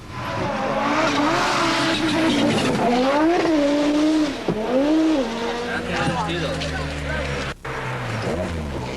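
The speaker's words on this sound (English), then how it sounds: "The new rally cars from Ford, Peugeot, Lancia and Austin Rover are without exception pure mid-engine racing machines" Mid-engine rally cars from the 1980s roar and shift pitch as they rev and change gears, loud and continuous, with a voice talking over the noise.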